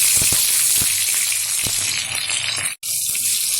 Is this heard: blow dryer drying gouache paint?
no